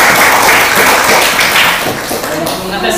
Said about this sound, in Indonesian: Ayo, aplaus dulu untuk kalian.